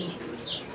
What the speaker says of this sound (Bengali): প্রিয় দর্শক আমরা এই মুহূর্তে দেখতে পাচ্ছি এখানে আরো এক জোড়া কবুতর